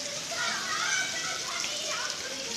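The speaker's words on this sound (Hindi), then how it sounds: "हमारी सिटी में बारिश पड़ रही है" Steady rain falling on a narrow city street, a dense even hiss of drops on surfaces, mixed with children's voices and play nearby.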